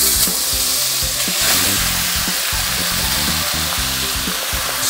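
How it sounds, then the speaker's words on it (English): Beef stir-fries over high heat in a hot skillet with a loud, continuous close sizzle and a constant hiss, alone with no voices throughout. "Stir fry over high heat."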